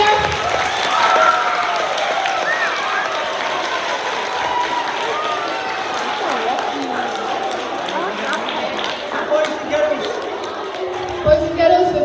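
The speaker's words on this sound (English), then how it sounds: "So can I have a big round of applause, big cheer?" Schoolchildren at a school football kit launch applaud and cheer, a sustained crowd wash of clapping and shouting with a few bouncing thumps near the end.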